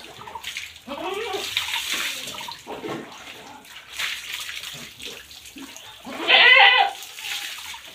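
Water is splashed and rinsed over a goat during hygiene washing on a farm, with uneven gushing and splashing bursts and a louder spray near the end; a voice speaks at moments.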